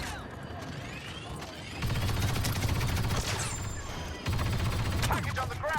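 A heavy gun fires in the video game Star Wars Battlefront 2, sustained bursts of rapid, loud gunfire in two main stretches with crashes and game effects over a busy battle background.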